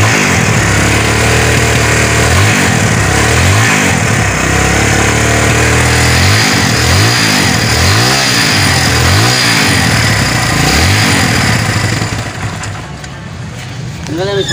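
A Kawasaki Barako 175 motorcycle engine runs after new piston rings are fitted, idling loudly and close with a steady chugging pulse and repeated small revs, then easing slightly near the end.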